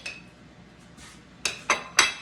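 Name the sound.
cutting sausage spaghetti pie in a casserole dish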